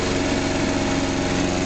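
A small Geet-modified engine runs on a mix of water, Mazola corn oil and gasoline, giving a loud, steady, close buzzing drone with a fast even pulse and no voices.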